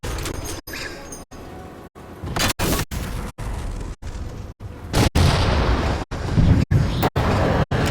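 Halo gunfire shooting down jammers, dense loud bursts and booming explosions packed together, repeatedly broken by abrupt short gaps.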